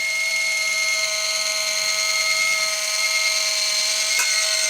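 Ninja Foodi electric pressure cooker venting steam, a loud steady high-pitched hiss and whistle that holds constant throughout, with a brief click near the end.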